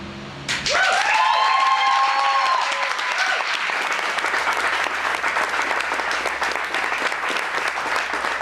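An audience at an evening show in Seattle bursts into sustained applause, which starts suddenly and stays loud and dense, with a brief shout or cheer near the start.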